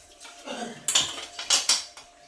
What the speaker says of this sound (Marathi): भांडांमधलं खरगटं पहिले सगळं स्वच्छ धुवून घेते त्यानंतर भांडे घासते